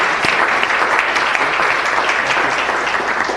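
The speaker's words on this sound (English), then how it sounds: "let's give them all a round of applause for their important efforts" An audience at a city council meeting claps steadily and loudly, dense applause that holds evenly throughout with no pause or voices.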